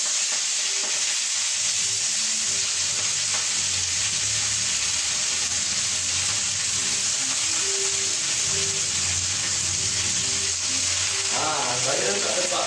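Mustard greens (sawi) frying in a hot wok, a steady broad sizzle running throughout with occasional stirring clatter and a faint voice near the end.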